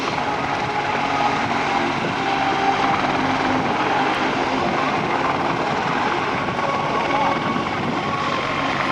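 An AH-64 Apache attack helicopter flies a demonstration at the Dayton airshow, a steady, loud, broadband rotor and engine roar that holds evenly across the whole stretch with no breaks.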